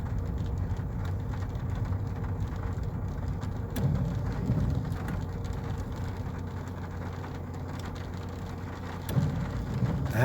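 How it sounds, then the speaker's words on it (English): Rain falls outdoors in a steady, dense patter that stays even throughout, with a low rumble beneath it and a couple of faint knocks. "And it's raining today"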